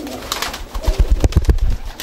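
Racing pigeons in a loft give a close run of soft, throaty coos, a short series of low pulsing notes with no speech.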